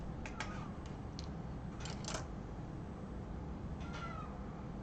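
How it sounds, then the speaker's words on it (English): A chair creaks in short, squeaky bursts that resemble a cat's meow, several brief cries scattered across a steady background hiss indoors. "That's my chair. I thought that was a cat."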